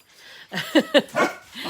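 A dog barks in a short burst of several sharp, fairly close yips and barks, loud against a quiet indoor background.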